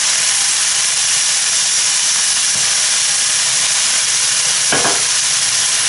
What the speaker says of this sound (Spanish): vamos a echarle nuestra salsa verde